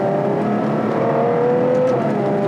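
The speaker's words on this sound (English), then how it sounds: "the quality of this V12 noise, it's not just blah, it's just the way it's got low down, it's got this wonderful thunderous rumble" Ferrari 812 Superfast V12 engine revving loud and close, a smooth, dense, continuous roar whose pitch holds and slightly rises, heard alone with no voices.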